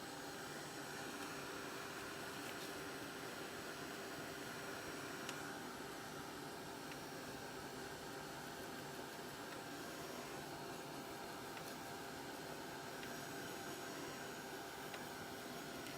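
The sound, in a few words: heat gun blowing to dry ink on a mat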